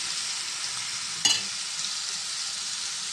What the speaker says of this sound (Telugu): టమాటాలు ఉల్లిపాయలు బాగా మగ్గాలి